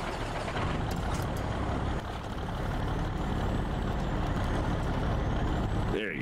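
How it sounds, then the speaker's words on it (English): A truck in the Snowrunner video game rumbles continuously with a heavy, steady engine drone and a hiss like an air brake, loud and close throughout with no pauses. "the view from back here watching Teal flip his truck is just great"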